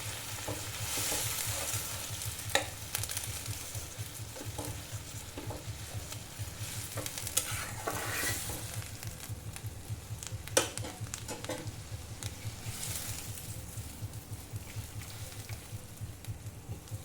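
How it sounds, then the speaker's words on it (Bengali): Fish and potato curry being stirred in a pan, with steady scraping strokes over a continuous low simmering sizzle; close and moderately loud, no voices. "ভালো করে নেড়ে নেব।"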